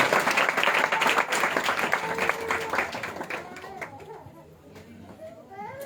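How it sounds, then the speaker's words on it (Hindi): A church congregation at a Christmas service claps loudly to welcome a speaker onto the stage, dense applause that thins toward the end while children's voices and chatter rise through the room. "आइए हम जोर से ताली बजाकर उनका स्वागत करते हैं स्टेज पर।"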